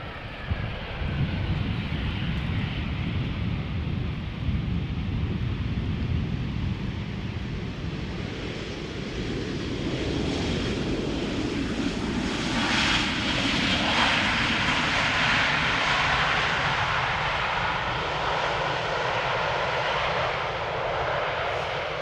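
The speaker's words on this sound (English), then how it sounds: "next airplane over here is Top Air Portugal, flight 670, returning from Lisbon" A 24-year-old TAP Air Portugal A320 on flight 670 from Lisbon, arriving at Amsterdam Schiphol, its engine roar and rushing air sustained and loud, swelling slightly as it passes.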